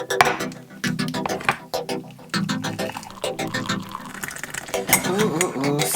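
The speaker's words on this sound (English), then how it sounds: "stirring that tea" A spoon stirs a cup of tea, clinking repeatedly and sharply against the mug while someone talks over the stirring.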